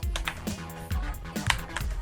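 Computer keyboard keys clacking during a football video game match, several quick irregular presses in short bursts, close and crisp with low thuds beneath.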